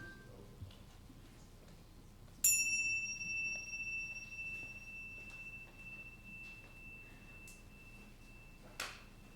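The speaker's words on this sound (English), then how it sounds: "let us center our hearts and minds with the ringing of the chimes" Chimes ring at the start of a Unitarian church service, with one clear metallic strike whose long, pure tone fades slowly across several seconds in a quiet room, followed near the end by a fainter second tap.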